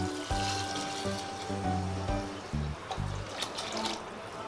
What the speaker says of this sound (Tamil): 4 டம்ளர் அரிசிக்கு 8 டம்ளர் தேங்காய் பால் ஊற்றிக்கோங்க